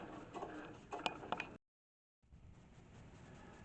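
A Cricut cutting machine cuts vinyl with a quiet whirring carriage and a few sharp clicks. A brief silent gap follows, then a steady low mechanical hum.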